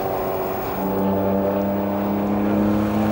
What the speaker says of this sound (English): So there is the safety car going around, Scott Stringfellow driving that.